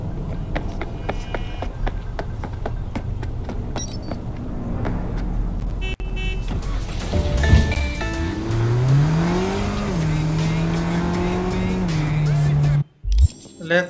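The Galena car in Cyberpunk 2077 is driven hard, with a constant engine drone and tire squeal, then a rising, sweeping rev toward the end, while someone talks over it.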